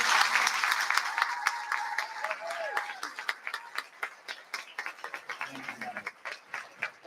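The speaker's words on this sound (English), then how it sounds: "can we get a big round of applause?" A crowd at a 5th grade awards and moving-up ceremony claps and applauds, steady at first, then thinning into scattered individual claps toward the end, with faint voices underneath.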